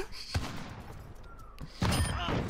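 Pistol fire in Call of Duty Modern Warfare, heard as a couple of sharp shots spaced apart amid quieter game noise, with no talk over them.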